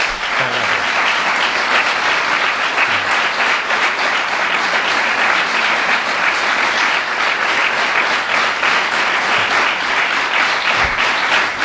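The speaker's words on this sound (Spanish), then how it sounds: "Hacía tanto tiempo que no me daban una ovación" A sustained ovation of dense, even clapping from an audience fills the whole stretch at a talk with a bullfighting fan club, with no voices over it.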